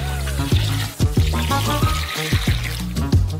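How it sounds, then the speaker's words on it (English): One liter of water is poured into a large basin of scattered sugar, a brief wet pour heard over a steady, loud rhythmic beat in the background. "Also pour in 1 liter of water."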